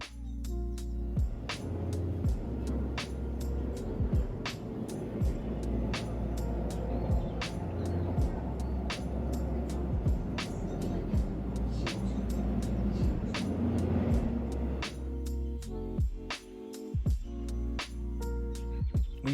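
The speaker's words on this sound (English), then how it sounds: "let's enjoy some more subway riding" Inside a moving Seoul subway car, a steady low rumble of the train carries sharp repeated clacks of wheels over rail joints, with the motion easing toward the end.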